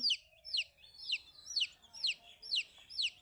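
Young chicken chicks peep close by, a run of seven sharp, high chirps at an even half-second pace over a quiet background.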